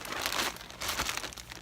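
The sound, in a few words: plastic bag crinkling while handled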